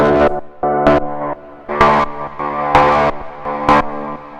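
Loud synth chords stab in repeated bursts, their tone shifting as a filter sweeps and gritty distortion kicks in and out, with no voices.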